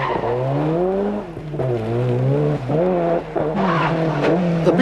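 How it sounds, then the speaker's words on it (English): Rally car on a Manx International Rally stage in 1991, running hard with a strained engine note rising and falling and a burst of skidding as its wheels lock under braking, close and loud with no talk. "At least Frank Maher's locking wheels gets some notice."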